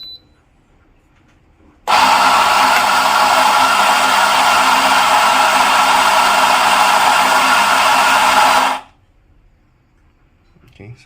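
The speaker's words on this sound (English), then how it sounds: "So to activate this grinder, I just have to press play." An RF64W commercial coffee grinder runs for about seven seconds as a steady, loud whirring grind, starting and stopping abruptly, with quiet room sound before and after.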